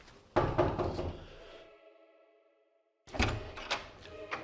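A few sharp, loud knocks on a door open the moment, then the sound fades to near silence before another burst of knocking and thumps returns close by.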